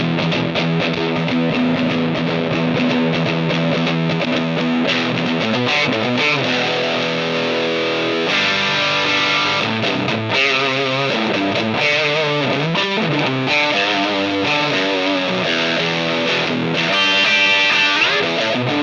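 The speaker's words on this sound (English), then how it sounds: "So what happens when we put a rat distortion pedal in it?" Electric guitar played through a Rat distortion pedal set wide open into a custom Hiwatt 40 amp, loud, saturated and sustained chords and riffs throughout with no talking.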